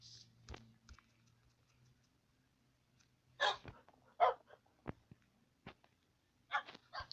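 Several dogs barking in short, scattered bursts at moderate distance, with quiet gaps and faint clicks between the barks.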